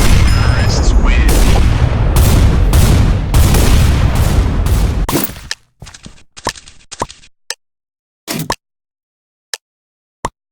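Loud blocky booms and bursts of explosion noise fill a round of Minestrike on Mineplex, then break into scattered sharp pops and short clicks separated by silence, with no talking.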